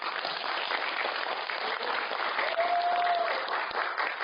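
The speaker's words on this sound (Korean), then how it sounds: "박수 한번 보내주십시오" An audience at a Democratic Party meeting in Korea on Vietnam War veterans' combat allowances gives a steady round of applause, a continuous dense clapping wash lasting several seconds with a faint voice partway through.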